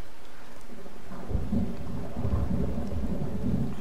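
Thunderstorm in the video game Fallout 4: a deep rolling rumble of thunder swells after a quiet start and keeps booming steadily under a constant hiss of rain, loud and close.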